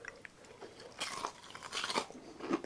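Bites into crunchy deep fried dandelion flowers give sharp, close crunches, two or three distinct bursts of crisp crackling with quieter chewing between, recorded close up and alone.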